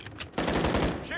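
Dense gunfire fills a Modern Warfare III beta match, starting with faint distant shots and then a loud, rapid burst of automatic fire with a voice-like sound faintly beneath it.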